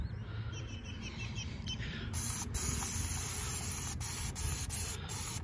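A pressure washer sprays Dawn dish soap cleaner, a steady loud hiss of water with faint squeaky chirps over it, growing slightly brighter partway through.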